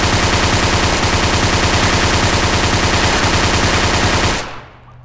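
Rapid sustained automatic gunfire from a big-magazine gun in the VR shooting game Gun Club VR, loud and continuous for about four seconds before cutting off abruptly into quiet.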